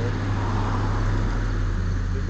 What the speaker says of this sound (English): Sounds like a bus again.